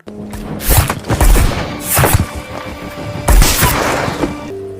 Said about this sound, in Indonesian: Raven pun langsung menembaknya saat itu juga